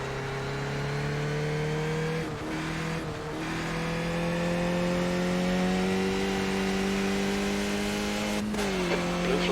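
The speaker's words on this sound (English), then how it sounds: "there's a faster car approaching" Race car engine in the iRacing sim, a steady droning tone that holds high with brief gear-change dips and shifts, as a faster car approaches, without voices.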